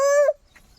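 A rooster gives a single short call that fades out quickly, leaving faint background sounds.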